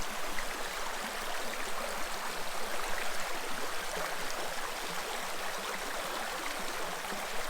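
Spring-fed creek water flowing steadily, a continuous rushing babble at moderate distance with no voices, at Forestville Mystery Cave State Park, Minnesota.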